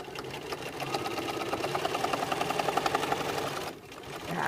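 A sewing machine fitted with a walking foot back-stitches along quilt binding, a fast even mechanical chatter that runs steadily for a few seconds, then pauses briefly and starts again.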